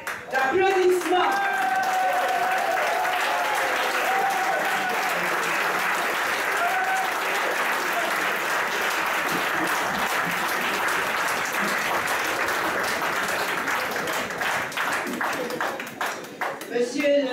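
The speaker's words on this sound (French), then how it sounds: "Je vous remercie de l'accueillir sous un tonnerre d'applaudissements." Sustained audience applause at a political assembly in Martinique rolls on loudly and evenly for many seconds, thinning slightly near the end, with scattered voices mixed in.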